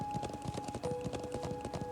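Rhythmic clip-clop of horse hooves from the Trails of Cold Steel video game, a steady trotting patter running throughout over a sustained tonal game soundtrack.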